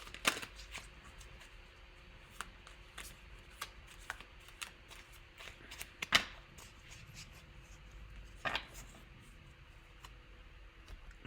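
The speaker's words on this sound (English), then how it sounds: "I just shuffled that again." Tarot cards shuffled by hand at a quiet table, soft papery riffles and sharp flicks and taps scattered through the stretch, faint and close, with no talking.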